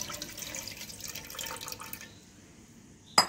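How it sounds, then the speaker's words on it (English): Tender coconut water poured into a pan on a stove for a pudding, a quiet trickling and dripping splash that tapers off, ending in a brief sharp clink. "Oru pan stove vechu, namukku adilekku elaneer vellam aanu nammal serkunnathu."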